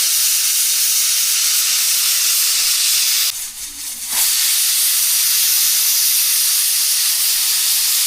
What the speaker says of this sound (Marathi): कुकरच्या 2 शिट्ट्या झालेल्या आहेत।